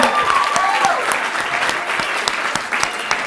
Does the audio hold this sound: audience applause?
yes